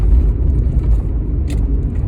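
Vehicle road noise from behind a broken-down truck crawling ahead on the road, a loud, steady low rumble throughout with a faint brief higher hiss near the end, no speech.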